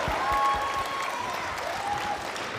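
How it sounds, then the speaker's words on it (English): An audience at a middle school band Christmas concert gives the principal a short round of applause, moderate steady clapping that stays under soft background noise. "Give him a round of applause, please."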